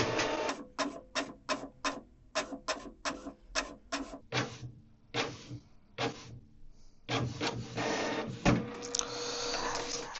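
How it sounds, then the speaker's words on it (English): A Canon Pixma MG3650S inkjet printer runs through a page: a rapid series of sharp mechanical passes, a brief pause, then a longer sustained whirring feed. "Now the printer is gonna give you a page."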